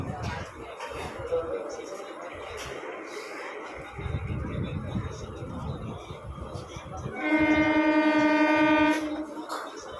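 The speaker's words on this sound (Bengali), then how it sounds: "ট্রেন চলে এসছে।" A local train on the single-line Sealdah–Hasnabad route pulls in at Basirhat station: a steady rumble of wheels and carriages swells, then a loud, sustained horn blast sounds near the end, close by.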